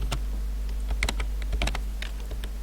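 Fingers clicking across a computer keyboard while entering array code, a close, irregular patter of sharp keystrokes over a low steady hum, without talk.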